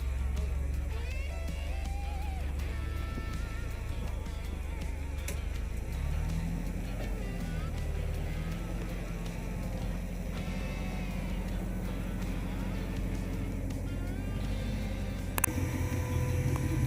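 An off-road rock crawler grinds slowly over a rock obstacle and a crack at Sand Hollow in Hurricane, Utah, its engine a steady low rumble with shifting revs throughout and a sharp knock near the end.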